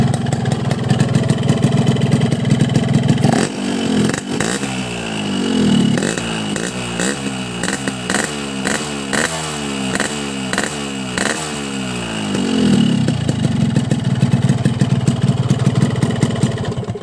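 A hot two-stroke Suzuki Alpha motorcycle engine idles loudly, then revs up and down in repeated rising and falling bursts before settling back to a rattling idle.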